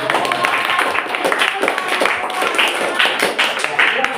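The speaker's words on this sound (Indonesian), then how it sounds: "beri tepuk tangan yang meriah" Students in a classroom clap together, a dense run of quick overlapping claps that holds steady for a few seconds, close and lively.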